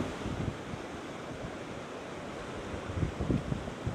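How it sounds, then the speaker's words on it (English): Ocean waves break near Udo Shrine on the Japanese coast, a steady wash of surf with a couple of heavier surges near the start and end, roughed up by wind buffeting the microphone. "And when you catch some big waves popping up as well."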